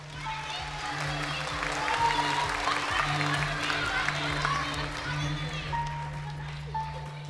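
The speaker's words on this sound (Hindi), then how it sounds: "जो ये समझ रहे हैं बड़ी अच्छी ऑफर है, वो तालियां बजाएं।" Studio audience on a Pakistani game show clapping steadily at moderate level, a dense continuous patter under a low background hum, with no break across the stretch.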